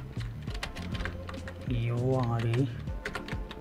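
Text is typed on a computer keyboard while a banner is laid out in Microsoft Word, giving a steady run of close, crisp key clicks under someone speaking throughout.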